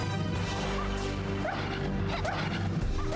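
Cerberus dogs in Castlevania 64 bark and yip repeatedly over a dense, loud game soundtrack and clashing effects, the barks short and sharp, rising above the music a few times.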